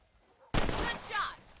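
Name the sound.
gunshots shooting rabbits in video game Red Dead Redemption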